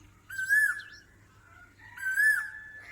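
Cuckoo singing on a farm, two separate clear calls about a second and a half apart, each a rising then falling whistled phrase, moderately near with quiet surroundings.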